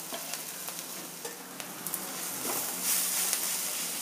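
Mashed boiled potatoes and onions stirred in a hot pan, a soft continuous sizzle with scattered scraping taps of the spatula, close and fairly quiet.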